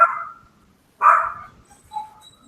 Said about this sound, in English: A 10-pound attack dog right there.